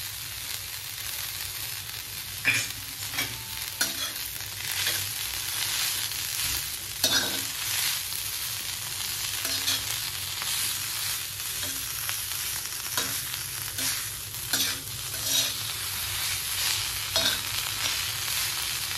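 Chili thecha with roasted peanuts and salt stirred in a pan, with a continuous close frying sizzle broken by frequent scraping strokes of a spoon, steady and moderately loud throughout.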